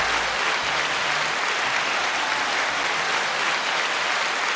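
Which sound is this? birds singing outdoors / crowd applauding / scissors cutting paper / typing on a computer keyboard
crowd applauding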